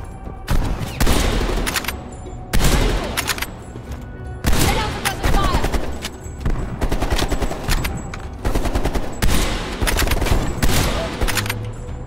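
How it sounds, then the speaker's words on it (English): Rapid gunfire bursts in the video game Call of Duty: Black Ops Cold War, loud and close, coming in repeated volleys with short gaps across the whole stretch. "They're shooting at us."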